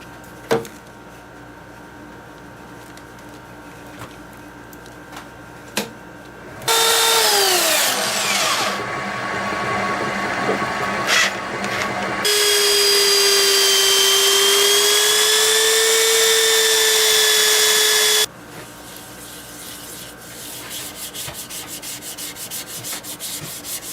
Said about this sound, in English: Just gonna sand it and finish it.